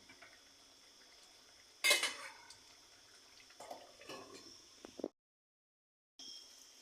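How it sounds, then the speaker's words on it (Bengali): Eggplant pieces go into a pan of fish curry made with small tangra fish, followed by metallic clanks of utensils and a lid being set on. Close, quiet kitchen sounds with one sharp clatter early and a short silent gap near the end. "আবার আমি ঢেকে দিচ্ছি এবার আমি বেগুনগুলো দিয়ে দিচ্ছি"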